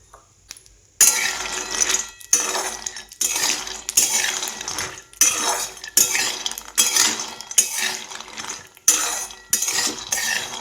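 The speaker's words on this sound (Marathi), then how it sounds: "कढईमध्ये थोडंसं तूप घालून घेतलेलं आहे आणि त्याच्यावरती मी हे बदाम आणि हे काजू भाजून घेणार आहेत" Almonds and cashews roasting in ghee are stirred briskly in a pan, with repeated rhythmic scraping and clinking of a spoon over a low sizzle, loud and close.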